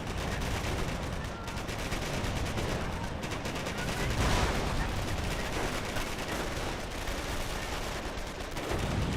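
Dense, continuous battlefield gunfire from Company of Heroes, with sustained rifle and machine-gun fusillades pouring onto German grenadiers, loud and unbroken throughout, with a brief swell near the middle and a voice faintly in the mix.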